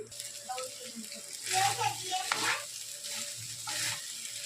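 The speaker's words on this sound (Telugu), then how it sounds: "కలుపుతున్నాను ఇక్కడ రైసు" Rice being stirred into fried potatoes in a pan, a soft sizzle with scraping and clinking stirs rising in bursts, close and moderately loud, with faint voices in the background.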